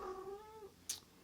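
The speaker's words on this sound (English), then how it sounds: "my cat just barged in here" A pet cat in a quiet room gives a short drawn-out meow, followed a moment later by a small sharp sniff or puff.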